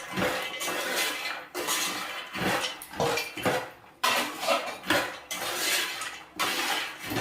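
Fried makhana (fox nuts) are stirred with chaat masala in a metal pan, a close, repeated scraping and rattling of a spoon against the pan in uneven strokes.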